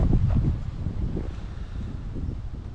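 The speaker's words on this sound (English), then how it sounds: "This morning the wind is whipping, so hopefully the audio on this is okay." Strong wind buffets the microphone at a lakeside wilderness campsite in the Adirondacks on a cool morning, with gusty low rumbling that is loudest at the start and then continues in uneven bursts.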